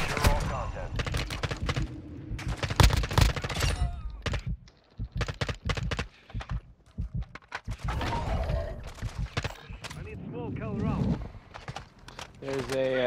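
Gunfire in a video game: rapid bursts of automatic shots and single cracks, loud and close, recurring throughout with brief lulls while people talk over the fighting.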